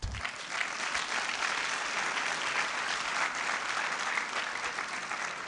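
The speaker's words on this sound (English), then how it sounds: "I thought you'd be happy and clap loud." Incoming university freshers at an orientation ceremony in Ghana break into sustained applause, a dense, even wash of clapping that holds steady and fairly loud from start to finish.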